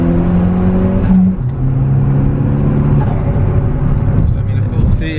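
A turbocharged, K-swapped Honda EG hatchback accelerates hard with a loud, close engine note climbing through the revs, with a gear change that drops the pitch partway through, while people talk inside the car.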